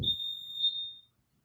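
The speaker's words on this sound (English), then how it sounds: "Shut up, timer." A single electronic timer beep rings out, a steady high tone lasting about a second before cutting off, fairly clear against a quiet room.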